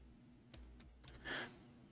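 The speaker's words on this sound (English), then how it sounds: "We are typing in English letters." A handful of soft, scattered key clicks tap away quietly, with a brief brushing noise in the middle; sparse and close.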